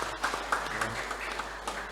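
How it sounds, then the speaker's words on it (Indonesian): A church congregation at a New Year service claps briefly, a moderately loud patter of hands with a few sharper individual claps. "tepuk tangan untuk kita semua Bapak Ibu"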